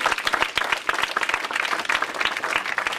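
An audience applauds warmly for young people and high school students at a community gathering, dense continuous clapping from many hands filling the room at an even level throughout.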